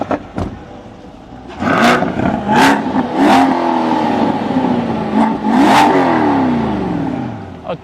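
A Chevrolet Corvette sports car engine revs hard several times in quick bursts, each rising roar falling back to a rumbling idle, loud and close.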